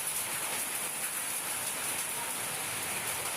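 Rain falls at night as a faint, even hiss of drops on a surface, steady and continuous with no voices.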